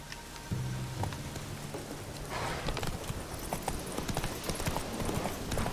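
In The Witcher 3 video game, a horse trots with a steady clip-clop of hooves. Rain patters in the background, and a brief low tone sounds near the start.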